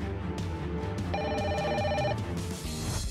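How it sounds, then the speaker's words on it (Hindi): An old-style telephone bell rings in a Five Nights at Freddy's prison-themed game, a sustained metallic trill lasting about a second, heard over game music and background tones. "सिर्फ रिंग बज रही है। फोन उठाओ।"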